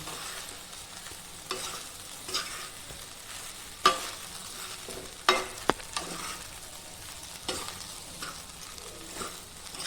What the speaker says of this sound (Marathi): आता मी यात साबुदाणा टाकते. परतून घ्यायची खिचडी.